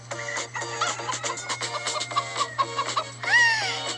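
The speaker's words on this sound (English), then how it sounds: "Where is my chicken?" A chicken clucks in a rapid series of short, close calls that break into a louder, drawn-out squawk near the end, over a constant low hum.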